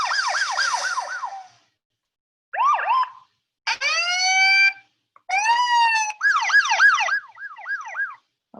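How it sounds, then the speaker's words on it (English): Police car siren sound effects from music software loops play in quick succession: a rapid warbling yelp, short bursts, rising wails and another fast yelp, loud and close, separated by brief silences, with no talking. "Oh look, all these different police car sounds."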